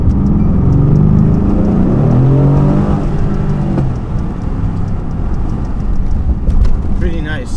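A Rolls Royce Wraith with a muffler delete, its engine revving up in a deep, loud surge that swells and then settles into a steady roar, with a brief lighter sound near the end.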